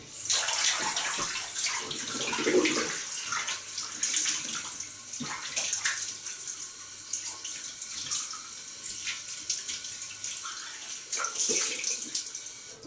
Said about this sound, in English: we're going to cold rinse